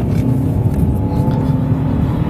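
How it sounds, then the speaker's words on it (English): Supercharged Corvette V8 in a Cadillac CTS-V pulls hard under throttle with a steady, loud low engine drone and a faint whine, close and continuous and free of speech. "There's just so much wonderful power with this supercharged Corvette motor"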